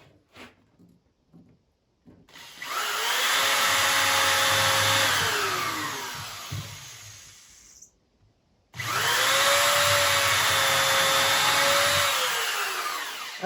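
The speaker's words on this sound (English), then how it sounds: "But on the end, you better drill them." A power drill with a tapered countersink bit bores into the end grain of cherry wood for a glider, making two long, steady whining runs of several seconds each with a brief pause between them.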